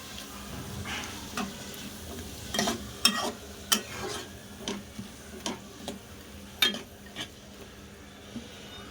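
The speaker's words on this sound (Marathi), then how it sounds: "पण थोडं शिजण्यासाठी त्याच्यात परतून घ्यायचे" Vegetables sautéing in a pan for a simple pulao, a faint low sizzle broken by a series of sharp clacks from a stirring spoon against the pan.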